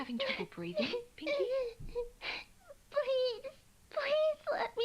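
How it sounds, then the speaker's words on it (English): Pinkie, a voiced character in an audio drama, moans and whimpers in strained, labored bursts, several drawn-out wavering cries separated by short breathy pauses, close and fairly loud. "She does sound like she's having trouble breathing."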